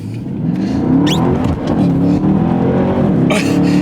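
A Porsche Panamera Turbo accelerating hard, its engine roaring loudly with rising revs and a brief shift, heard from inside the car while people talk over it.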